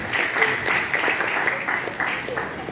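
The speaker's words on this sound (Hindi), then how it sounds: "तो एक बार ये दोनों के लिए भी बहुत ज़ोरदार तालियां हो जाए" Audience applause for two event anchors at a community stage programme, a steady wash of clapping with some voices mixed in, moderately loud throughout.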